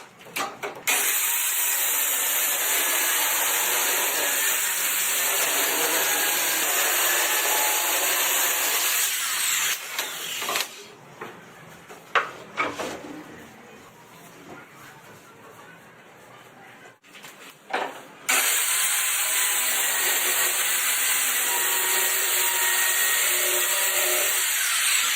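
A power saw rips through a large wooden sheet along an aluminum guide rail, its steady loud whine running for about ten seconds, dipping into rougher cutting noise midway, then surging back to a high whine.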